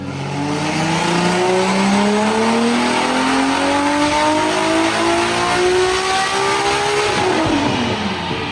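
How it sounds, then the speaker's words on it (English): A Nissan S14.9 car engine revs hard on a dyno in a steady power run, pitch climbing smoothly for about seven seconds before the throttle snaps shut and it drops off, loud and close with no talk. "First few power runs, she's sounding nice."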